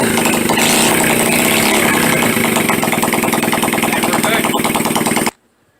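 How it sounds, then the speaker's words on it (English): A motorcycle engine with its muffler removed runs loud and close, a harsh, rapid, continuous popping rattle that cuts off abruptly near the end, with a voice faintly audible under it. "I completely forgot that I took the muffler off, and that's why it is sounding like that."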